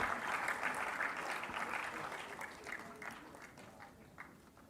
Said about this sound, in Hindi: ये तालियां उत्तम सिंह जी के लिए हैं